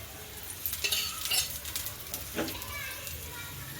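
A gram flour pudla, a three-flour pancake, roasts on its second side in a little added oil on a pan, with a soft continuous sizzle, occasional scraping and a voice faintly in the background.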